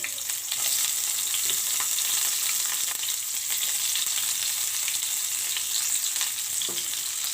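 Onion pieces sizzle and crackle steadily in hot oil in a pan, a dense, continuous fry that holds at an even level from start to finish, with no one talking.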